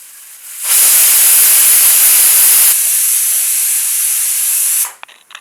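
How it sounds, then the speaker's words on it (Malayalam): A pressure cooker full of beef hisses a loud, steady jet of steam for about four seconds. The hiss weakens slightly partway through and then cuts off abruptly, leaving a few faint clicks. "അപ്പോൾ നമ്മുടെ കുക്കർ 5 വിഷിൽ അടിച്ചു കഴിഞ്ഞ്"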